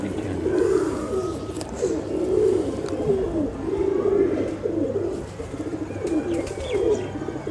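Pigeons coo steadily in soft, repeated throaty phrases close by, with faint chirps and background hum.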